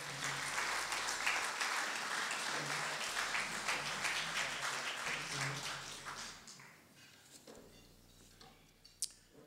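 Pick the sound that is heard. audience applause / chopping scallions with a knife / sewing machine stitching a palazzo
audience applause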